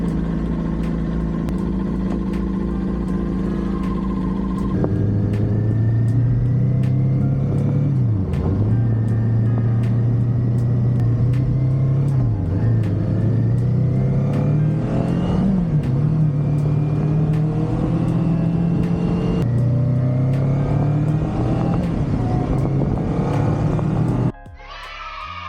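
Kawasaki Ninja 400 motorcycle riding after a fresh oil change, its engine rumbling steadily and close, rising and falling through repeated revving and gear changes for about twenty-four seconds before cutting off abruptly at the end, with no talk.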